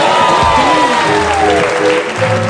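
Studio audience applause on an Indonesian TV talk show, a loud, continuous wash of clapping mixed with tonal music and voices throughout.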